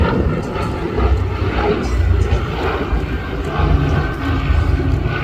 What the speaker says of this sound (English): That beautiful rumbling engine, just that sound is so gorgeous.